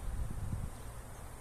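Honey bees at an open beehive during a brood-box inspection, a low, steady, close buzzing hum with a faint rustle of wind over it.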